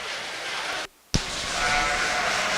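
Sheep at a sheep show, with a steady broadband crowd and barn hum, a brief dropout, then a sharp onset and continued bleating-like tones over the hall noise.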